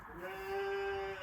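A large female sheep at a market for sacrificial animals gives a single steady, nasal bleat close by, holding one long tone with faint background noise.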